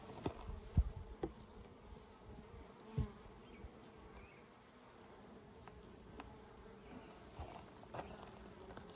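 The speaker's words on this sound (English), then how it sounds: "Looks like there's a whole bunch of bees in here" A mass of honeybees hums continuously inside an opened hive, close and steady, with occasional sharp knocks and handling sounds over the buzzing.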